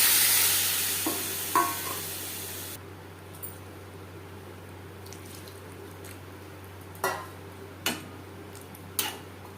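Amra, or hog plum, frying in a pan with salt and turmeric for a chutney: a steady soft sizzle, with a few sharp ticks and clinks of stirring scattered throughout.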